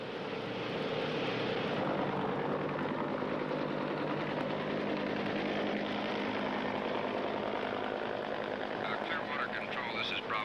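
US Navy assault helicopters off a floating helicopter base in the Vietnam War give off a steady, heavy roar of rotors and engines, with indistinct voices faintly beneath the drone.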